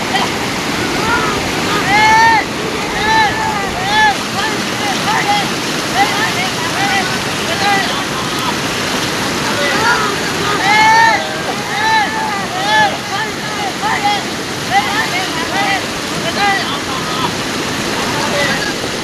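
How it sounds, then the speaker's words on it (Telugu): Flooded streams rush during heavy rain in the Chintapalli agency area of Alluri district, a continuous loud roar of water that runs under a voice talking throughout. "వాగులు ప్రమాదకర స్థాయిలో ప్రవహిస్తూ ఉన్నాయి"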